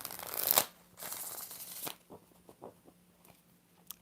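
Tarot cards shuffled in several close bursts, a long riffling rush followed by softer scattered card taps and slides, with no talking.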